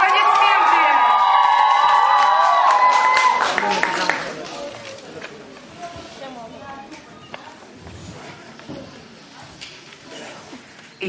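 An audience at a children's summer camp concert cheers and applauds loudly for several seconds, then the clapping and shouting fade to scattered claps and murmurs.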